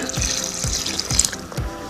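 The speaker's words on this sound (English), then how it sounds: "then I'm going to add 2 cups of water, but I'm going to put it in 1 cup at a time" Water pours from a cup into a Black & Decker Crush Master blender jar, a close splashing stream broken into about four quick glugging pulses, with no talk over it.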